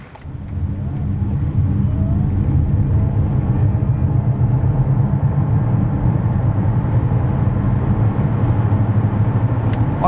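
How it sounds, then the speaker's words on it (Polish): A 2024 Mercedes EQB 250+ electric SUV with 190 hp accelerates from 0 to 100 km/h in sport mode, heard as a loud, steady low rumble of road and tire noise that holds evenly throughout. "A jakby ktoś chciał mocniej wykorzystać potencjał układu napędowego, to może przełączyć się na ustawienia sportowe, które wyostrzają reakcję silnika, tak auto wtedy przyspiesza od 0 do setki."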